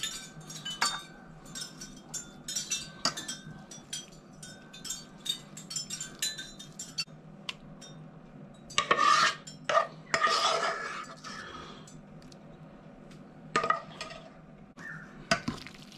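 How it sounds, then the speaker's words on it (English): Goat meat being stirred through a homemade BBQ rum sauce, a run of soft scraping and clinking utensil strokes against the cookware that come in bursts and pauses, fairly close, with no talking. "I'm going to mix that all through"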